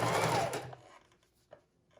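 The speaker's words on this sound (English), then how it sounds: "We can use a zigzag stitch or a straight stitch and go ahead and go down that page" A sewing machine runs a zigzag or straight stitch down a paper junk journal page, whirring steadily and close for under a second before stopping, followed by faint handling sounds.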